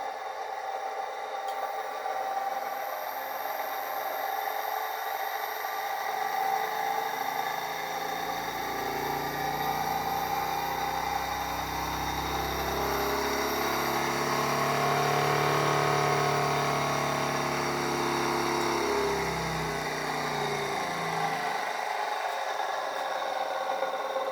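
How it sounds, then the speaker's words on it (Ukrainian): An electric motor runs from a transformer-based system drawing about 700–800 W, a steady hum that builds low in the middle and fades away near the end, with no voices. "От, демонструє, що двигун працював саме із цієї системи."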